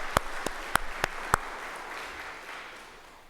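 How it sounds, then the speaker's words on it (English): An audience at a Lenten retreat in a parish gathering offers applause, with several sharp, distinct claps up close in the first second and a half, then a softer wash of clapping that gradually fades. "I think Father EJ and Anna deserve a round of applause for that tonight"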